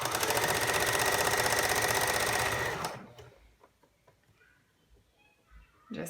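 A sewing machine runs in a fast, steady stitching whir for about three seconds, close and clear, then stops, leaving quiet handling noises.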